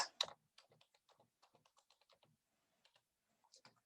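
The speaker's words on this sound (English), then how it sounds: "Or I can type the date." Keys clatter on a computer keyboard as a date is entered, a faint, close run of quick irregular taps with brief pauses between.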